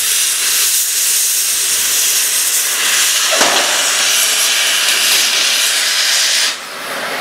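Line burner torch cutting a bend coupon from a welded strip, with a loud, steady roaring hiss through the whole cut that drops slightly near the end, no talking.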